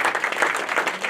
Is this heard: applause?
yes